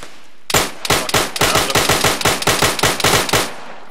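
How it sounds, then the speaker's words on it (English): A sustained machine gun burst in the video game ARMA 3: loud, rapid, evenly spaced shots rattling for about three seconds, close and dominant, with no talking. "Is that MG down to the east?"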